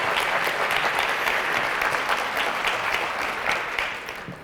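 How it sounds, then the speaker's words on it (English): Applause from an audience of teachers, past educators and veterans at a talk, a dense, steady round of clapping that fills the room and tapers off slightly at the end. "Can we give them a round of applause"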